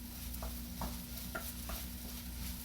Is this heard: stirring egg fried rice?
yes